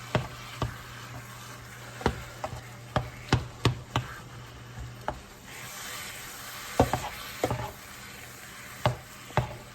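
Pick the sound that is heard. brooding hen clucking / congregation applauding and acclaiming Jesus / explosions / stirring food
stirring food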